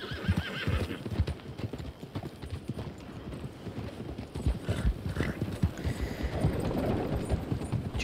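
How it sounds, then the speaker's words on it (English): Horse in the Western video game Red Dead Online, hooves clip-clopping in a quick continuous rhythm with a whinny mixed in, fairly close and prominent throughout. "Come on, horse. Come on, horse. Don't be stupid."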